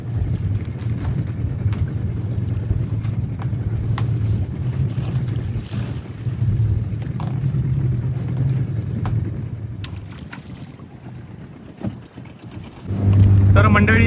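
A small fishing boat on a coastal creek rocks on wind-driven waves, with continuous water wash and heavy wind buffeting the microphone, and a low engine-like rumble rising near the end.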